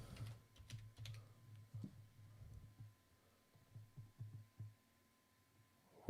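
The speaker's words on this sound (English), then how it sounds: "I'm just going to use the keyboard then" Rapid keystrokes clatter on a computer keyboard in irregular bursts, close and fairly quiet, over a steady low electrical hum with no voices.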